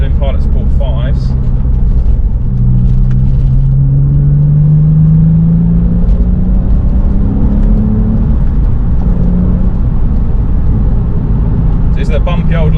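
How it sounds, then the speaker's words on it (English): A Porsche 996 engine hums steadily from inside the cabin, rising and falling in pitch as the car rolls at speed over a bumpy lane on Michelin Pilot Sport 5 tyres, with road rumble underneath. "the car feels good even at speed over these bumps"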